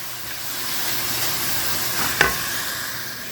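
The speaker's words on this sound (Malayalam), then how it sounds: "അപ്പോൾ ഒന്നും കൂടി ഒന്ന് ഫ്രൈ ആയി വരട്ടെ." Onions frying in a pot for chicken gopi masala, a steady close sizzle and hiss with one sharp clink of a stirring spoon partway through.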